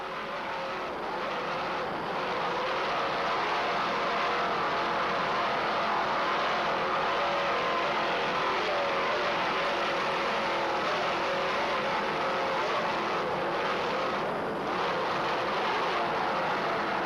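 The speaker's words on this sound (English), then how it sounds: "Two 700 horsepower Chevy inboards," An offshore racing powerboat with two 700 hp Chevy inboard engines and Mercruiser drives roars continuously at speed during a 1994 Key West world championship race, a dense, steady engine and hull rush heard at a distance without talk.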